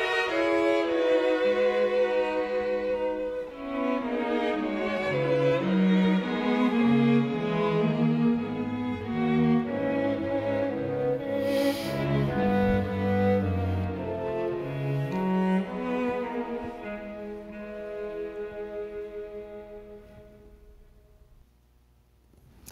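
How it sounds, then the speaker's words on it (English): A folk-song melody played by chamber strings is briefly interrupted by a cello, the music flowing continuously with layered sustained tones before fading out toward the end. "there's just a slight little interruption from the cello."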